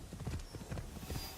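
Horse hooves clip-clopping at a steady trotting rhythm in the video game Assassin's Creed Shadows, a close, moderately loud run of low thuds repeating about three times a second with no talk over it.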